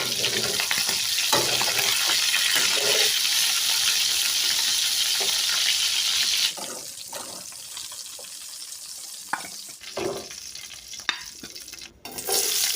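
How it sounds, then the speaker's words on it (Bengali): Chicken pieces frying in oil for a black chicken curry, a loud steady sizzle with stirring that drops to a quieter crackle midway, with occasional clinks of a utensil against the pan. "পরিমাণ মতন তেল দিয়ে মাংসগুলো সুন্দর করে ভেজে নেব"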